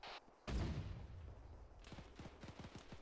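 A single heavy artillery-style shot booms in a video game battle during a Krazovian last stand, followed by a long rumbling tail and a quick rattle of smaller shots near the end; no talk.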